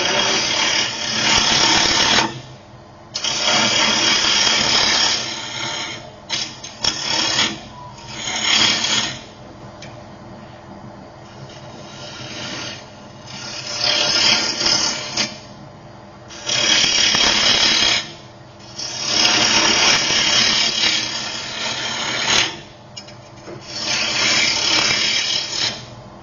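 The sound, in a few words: wood being cut with a gouge on a lathe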